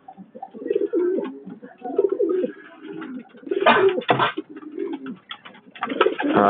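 Pigeons in a loft coo in repeated low, throaty bursts, close and fairly loud, with a few scattered chirps and wing or shuffling sounds between calls.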